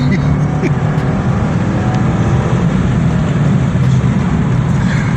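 A 2015 Subaru WRX engine pulls hard in fourth gear, a loud, steady, continuous engine roar with heavy low rumble heard from inside the car, with a voice speaking over it.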